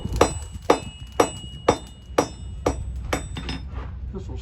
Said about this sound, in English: The first step in making a nail is to draw out the end to a long tapered point.